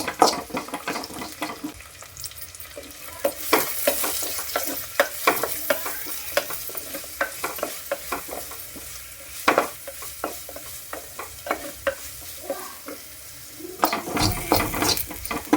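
Grated coconut fries in a pan with a steady crackling sizzle, punctuated by repeated scraping and clattering strokes of a spoon stirring it, close and moderately loud with no talking.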